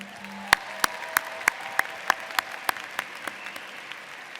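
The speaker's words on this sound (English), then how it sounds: "Let's give another round of applause for our singer" At a college engineering commencement, a few people clap for the singer in sparse, distinct claps spaced about a third of a second apart. The claps stand out sharply against a quiet hall.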